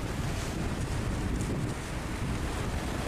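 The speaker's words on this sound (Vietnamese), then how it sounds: "ghe vô sâu trong cửa cảng các bạn thấy không?" A heavily loaded fishing boat entering a harbor in Khánh Hòa, with a constant roar of wind buffeting the microphone over rushing waves and a low, steady rumble throughout, loud and unbroken, with no one talking.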